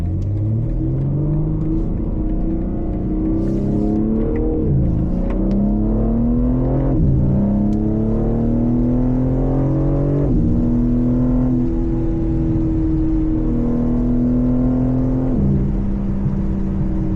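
A 2025 BMW M3 drives on windy backroads at night in the rain, its engine rumbling steadily and rising in repeated accelerations and gear changes, loud and close with no talk.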